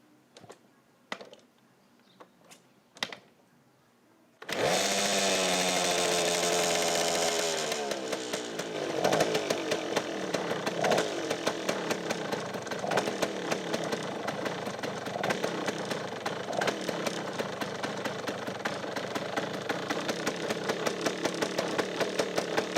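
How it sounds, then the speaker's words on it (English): A vintage motorcycle that had stalled from a fouled spark plug coughs through a few short attempts, then catches and settles into a steady, loud, close idle that runs alone without a break. "I think I'm going to try starting it first just to make sure that it does still start"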